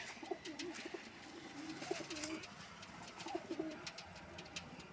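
Pet pigeons kept by a pigeon fancier coo softly in repeated low throaty phrases, fairly close and fairly quiet, with some faint higher chirps and rustling in the background.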